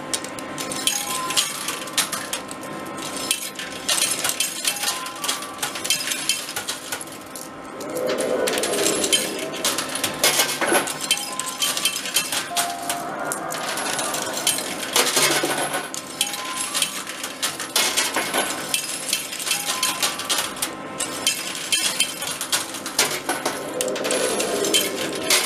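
Arcade coin pusher machine with coins dropping and clattering over a steady mechanical hum, bursts of metallic jingling recurring over about twenty-five seconds amid busy arcade noise.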